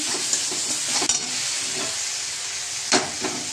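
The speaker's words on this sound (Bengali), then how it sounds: "আমি টমেটো একটু পেস্ট দিয়ে দিলাম। হলুদ গুঁড়ো, একটু লঙ্কার গুঁড়ো, ভালো করে কষে নিচ্ছি।" Tomato paste with turmeric and chili powder sautés in a pan, giving a steady close hiss of frying with a few soft scrapes and clinks of stirring, and no voices.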